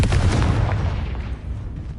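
A Confringo fire spell in the Hogwarts Legacy video game goes off as a loud, booming blast that rumbles and fades over about two seconds, with no talking over it.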